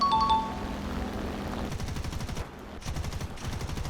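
Machine gun fire from an aircraft in the video game War Thunder, heard as rapid, continuous rattling bursts with a brief pause partway through, loud and close over steady engine drone.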